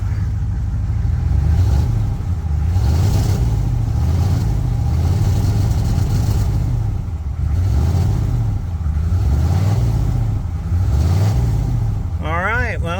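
A 1990 GMC Sierra C2500 pickup with a 6.2 diesel engine, after sitting for three years, revs loudly and steadily with repeated rising and falling surges of its low, rough clatter, close to the microphone.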